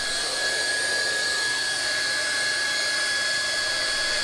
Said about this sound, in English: Hot welding of internal and external miters.